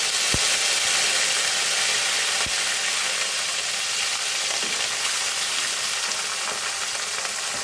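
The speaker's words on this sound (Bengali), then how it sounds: "তেলটা গরম হয়ে গেছে। প্রথমেই আমি দিয়ে দিচ্ছি পেঁয়াজ কুচি।" Chopped onions fry in hot oil for a Bengali chicken roast, a steady dense sizzle filling the whole stretch with a few soft clicks of a utensil against the pan.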